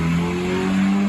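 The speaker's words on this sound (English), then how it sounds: "BMW 2 series that just drove by" A BMW 2 Series car drives past outdoors, a steady continuous engine hum with rising revs that holds through the whole second, fairly close and loud, with no talk over it.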